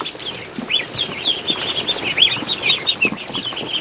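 Rapid high-pitched peeping squeaks from a duckling repeat continuously, close and fairly loud over a faint background hiss.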